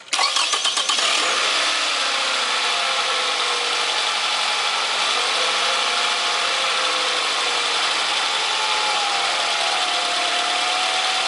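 A car engine cranks with a brief rapid stutter, catches, and settles into a loud steady running drone that continues close by to the end.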